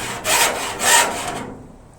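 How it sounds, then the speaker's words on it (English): A metal file rasps in two close, scratchy strokes along the sharp cut edge of a window opening in a Luton van's panel, loud and near, then fades out. "So just go around with the file and"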